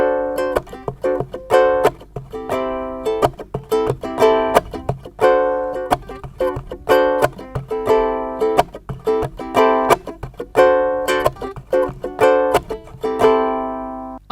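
Ukulele strummed in an even straight rhythm with steady evenly spaced strokes, bright and close, repeating a chord pattern for about fourteen seconds with no voice, ending on a ringing chord.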